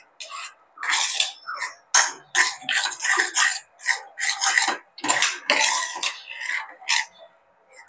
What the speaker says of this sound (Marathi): एकसारखं ढवळत राहायचं आहे